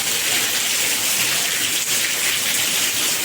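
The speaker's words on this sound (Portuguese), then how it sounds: "de repente começou essa chuva agradável" Gentle rain falls steadily just outside a bedroom window, a soft even hiss of drops on surfaces with no talking.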